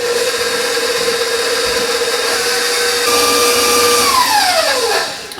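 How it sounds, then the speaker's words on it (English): An electric hand mixer beats wet and dry ingredients into batter for breakfast bread, a loud steady close-up whine that holds for several seconds, then rises in pitch and winds down as it stops. "now I'm going to beat that, the wet with the dry"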